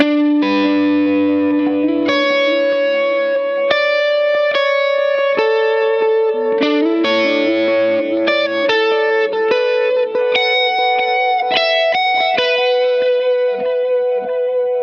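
Clean electric guitar notes through a Line 6 POD Go dotted-eighth delay, each note repeating in quick echoes that blend into a shimmering, cascading pattern; loud and steady.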